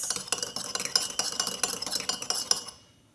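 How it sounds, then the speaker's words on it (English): A utensil clinks quickly against a bowl while purple water is mixed into egg white, a rapid close run of small taps and scrapes that stops abruptly near the end. "And give that a bit of a mix."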